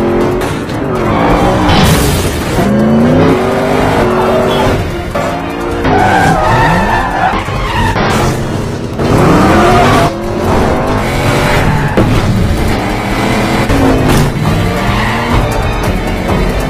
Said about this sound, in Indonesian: John melihat Rogue kabur menggunakan mobil, jadi dengan cepat ia melakukan pengejaran